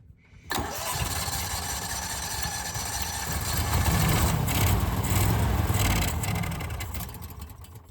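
An ARGO 6x6 amphibious vehicle engine, a barn find, starts up and runs, rough and loud up close, swelling mid-clip then settling into a steady idle-like drone.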